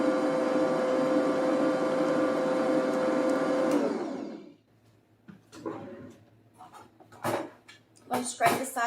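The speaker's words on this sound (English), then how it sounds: "I'll scrape the sides of the mixer." An electric mixer whirs steadily through strawberry cake batter with butter, a loud motor hum that winds down and stops near the midpoint, followed by scraping clatter and a person speaking.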